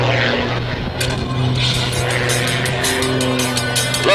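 An MX2 aerobatic airplane engine drones steadily through a knife edge tumble at an air force base airshow, distant and continuous with shifting pitch, while an announcer talks over it.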